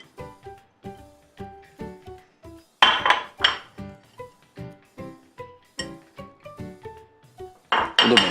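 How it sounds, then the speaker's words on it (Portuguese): A utensil strikes and scrapes a bowl while savory muffin batter is mixed, giving a steady series of bright clinks with a few louder scraping bursts, close up and with no talking. "a gente vai só misturar e aí isso vai virar uma massa única que vai assar no forno"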